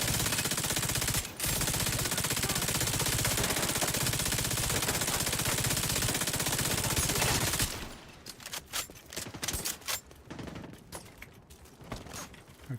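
Video game gunfire: a long, loud stretch of sustained automatic fire with one brief break near the start, then it gives way to scattered separate shots and mechanical clicks and rattles.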